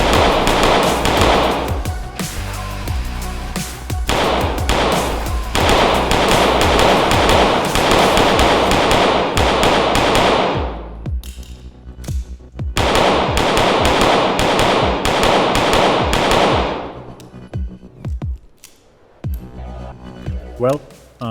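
An OPOS Venator pistol fires in rapid, loud strings of close shots with short pauses between bursts, the sharp cracks echoing briefly.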